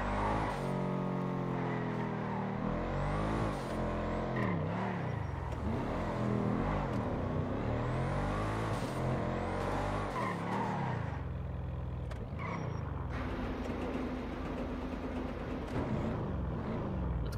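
A car in GTA V drives with a steady engine drone and shifting revs, interrupted by repeated tire skids and squeals, loud and continuous throughout without talk.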